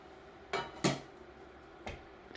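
A metal lid goes onto a simmering pot, giving two close clanks in quick succession, then a softer knock a second later, in a quiet kitchen.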